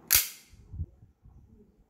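A single sharp shot from a KJW 1911 airsoft pistol with blowback action cycling, close and loud, followed by faint low handling noises.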